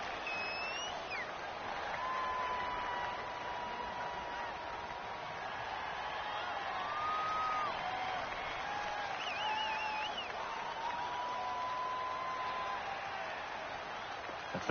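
A home stadium crowd in a football video game roars steadily near the goal line as the offense tries to hear the snap count, a dense, even wash of noise that swells slightly midway.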